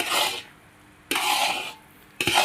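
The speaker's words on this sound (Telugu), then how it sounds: "ఈ రెండు వేసుకుని బాగా కలుపుకోండి" Ghee being stirred into a motichoor laddu mixture: three bursts of thick, gritty scraping and rubbing, close and moderately loud, with short quiet gaps between strokes.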